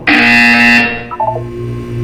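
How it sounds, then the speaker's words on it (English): A loud electronic buzzer from the video game Portal 2 sounds as one steady, harsh tone for under a second, then cuts away into a few softer fading tones over a low hum. "When you hear the buzzer, look down at the floor."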